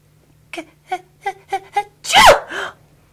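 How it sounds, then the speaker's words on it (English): A voice acts out a sneeze: five quick, rising breathy 'ah' gasps build up, then burst into one loud, sharp 'choo'. "Presently, Peter sneezed."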